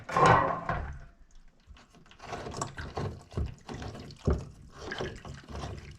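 Water gushes and splashes from the drain filter of a Samsung washing machine as a backed-up load empties out, loud at first and then running in irregular trickling bursts and splashes, with no talking.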